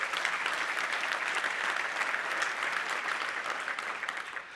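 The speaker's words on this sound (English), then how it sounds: "Please give this a big round of applause." A conference audience applauds steadily at an industry anniversary welcome, a dense, sustained wash of many hands clapping that holds at even loudness and tapers slightly at the end, with no voices over it.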